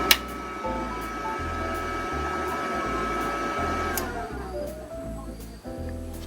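A NOVOARC MIG 120 welding machine switches on and runs, giving a steady electrical hum with a rhythmic pulsing drone and a higher whine that shifts partway through, heard up close.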